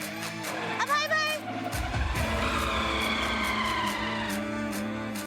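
A motorbike starts up and rides away carrying a passenger, with a low engine rumble and rising revs building after a quieter opening and continuing steadily to the end.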